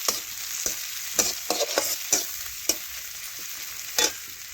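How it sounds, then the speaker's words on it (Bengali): Chopped tomatoes stirred into frying onions, the spatula scraping the pan in a run of distinct, irregular strokes over a bright, constant sizzle, close and clear with no talking. "এ দেখুন একটু ভালোভাবে পেঁয়াজের সাথে নাড়াচাড়া করে মিশিয়ে নিচ্ছি"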